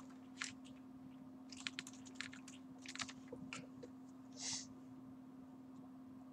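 Password keys tapped on a computer keyboard, a quiet uneven run of separate clicks and short bursts over a steady electrical hum, close to the mic with no voices.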